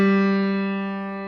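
A single note from a DRAKE modeled instrument, played hard, rings out bright and harmonically rich, then fades slowly over about a second.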